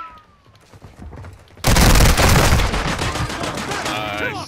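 Shotgun fire in a video game bursts in suddenly as a loud, dense blast after a quieter stretch, followed by a rumbling tail and ringing effects, with talk mixed in.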